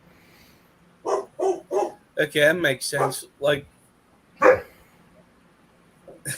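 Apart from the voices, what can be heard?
lap dogs barking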